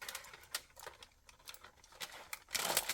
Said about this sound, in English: We're going to cut the string inside